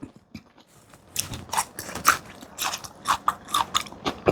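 Crisp, close bites and crunching from pickled madan fruit being eaten, a series of sharp crackly snaps growing denser after a quiet opening, with no talk.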